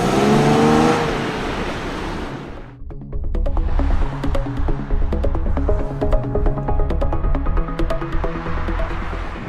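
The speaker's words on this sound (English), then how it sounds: "And listen to this engine note." A V6 engine in a 2010 Infiniti or Nissan, likely an Infiniti M37, FX35 or Nissan 370Z, revs hard under acceleration on a drive. It then settles into a close, throbbing idle-to-cruise rumble with sharp ticking transients.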